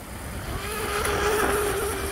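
A small RC hydroplane boat with a high-KV electric motor, 5,800 KV on a 2S battery, races across the water. Its high-pitched whine is continuous and steady and seems to draw nearer, with no talk over it.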